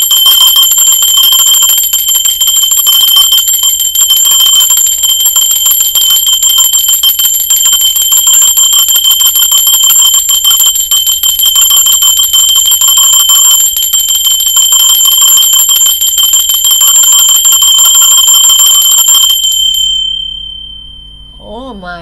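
A loud, piercing metallic bell rings continuously for about twenty seconds with a steady shimmering tone, then stops suddenly, and a voice follows briefly afterward.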